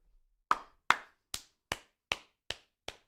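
Studio hosts clapping on a sports talk show: seven separate sharp, close claps at a slow, slightly irregular pace with brief silence between each.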